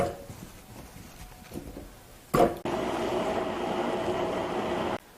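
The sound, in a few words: blender grinding pear and radish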